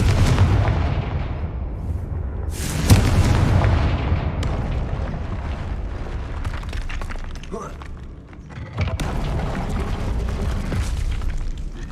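Confringo blasting spell explosions in the game Hogwarts Legacy: loud, booming bursts that jump out over a dense, rumbling battle backdrop, with a big blast near the start and another later on.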